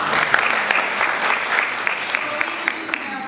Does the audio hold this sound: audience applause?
yes